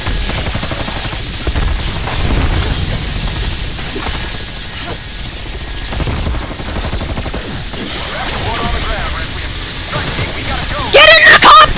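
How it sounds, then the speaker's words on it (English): Grenade explosions and crackling gunfire in Call of Duty Black Ops Cold War Zombies burst repeatedly in a loud, chaotic jumble, with a voice shouting at times over the blasts. "I'm chucking all the nades I have!"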